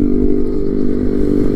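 Loud, steady engine drone of motorcycles passing close by on a road, a continuous heavy rumble with no talking.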